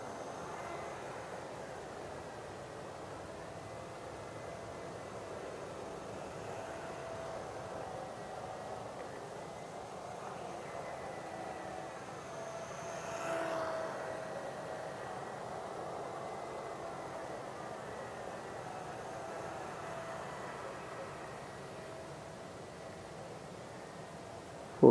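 An RC model Cessna 180 airplane runs its engine at full throttle, giving a steady, fairly faint droning whine that swells briefly midway, then holds level as it flies off at a distance.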